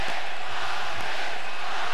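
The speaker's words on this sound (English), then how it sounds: "Crowd is chanting Marquez, Marquez, Marquez, trying to get their star started early." A boxing arena crowd at the Timothy Bradley vs Juan Manuel Marquez fight chants Marquez's name in a loud, steady, rhythmic roar that fills the hall.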